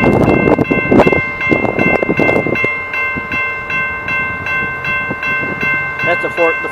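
A four-car Rail Runner commuter train rumbles past close by, with a sustained tonal hum and clattering wheel noise, while people talk over it at the start and end.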